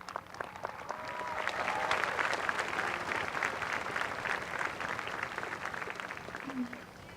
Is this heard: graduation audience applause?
yes